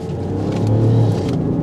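BMW X5 40d diesel engine revving on a manual downshift into second gear, a deep rumble swelling to a louder held surge mid-way then easing, heard from inside the car without talk.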